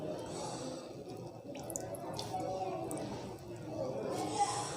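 Grated potatoes being squeezed by hand, with water dripping and splashing out of the pulp, a steady wet patter that runs through the clip beneath a speaking voice.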